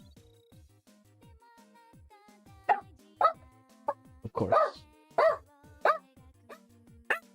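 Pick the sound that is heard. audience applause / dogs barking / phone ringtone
dogs barking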